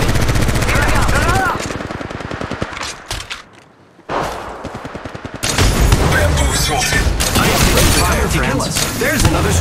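Loud, rapid automatic gunfire from the mobile shooter Apex Legends Mobile rattles in dense bursts, pauses briefly into near silence, then resumes with heavy continuous firing and impact thumps.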